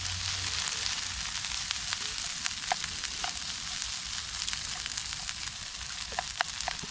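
Food frying in a collapsible nonstick camping pan, with steady close sizzling and crackling throughout and occasional light scrapes and taps as it is stirred quickly.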